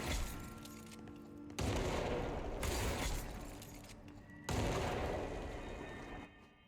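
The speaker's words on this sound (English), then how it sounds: "RT to detonate that grenade" An adhesive grenade going off in the video game Control, heard as two loud, broad blasts about three seconds apart, each sustaining a rumbling roar that slowly fades, with no talking.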